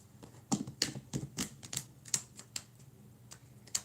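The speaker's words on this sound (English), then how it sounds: "Just want to get a nice good shuffle in here for you guys." Tarot cards are shuffled in quick, irregular bursts of crisp riffling snaps and soft slides, close and fairly quiet, with no talking over them.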